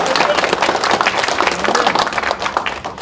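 Dense, steady applause from a church congregation at a national prayer breakfast and thanksgiving service, loud and close throughout with a slight fade at the end.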